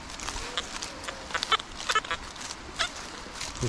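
A metal detector swept over foil-littered ground in a noisy woodland spot, giving repeated short high chirps and beeps at irregular intervals over faint background noise.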